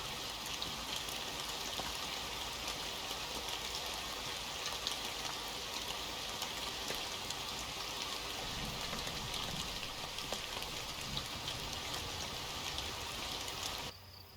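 Constant rain in American Truck Simulator makes a dense, steady hiss for the whole stretch, then cuts off abruptly at the very end.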